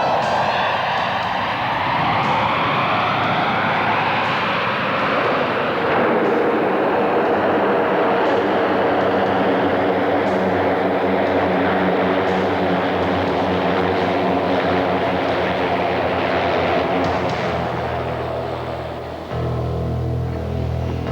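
A Redigo propeller trainer aircraft flies past loud and steady, its engine drone holding for about twenty seconds with a rising and shifting pitch, and no voices are heard.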